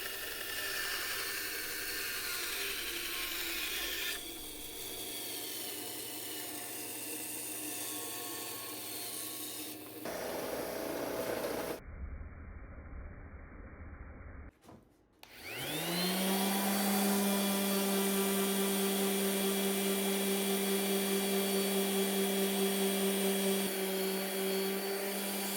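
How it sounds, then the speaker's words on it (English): Bandsaw cutting away dried inlay material from a wooden end-grain cutting board, a loud steady motor whine and blade hum that drops out briefly, then spins back up and runs on continuously up close. "Now it's dried, and we're cutting it away on the bandsaw."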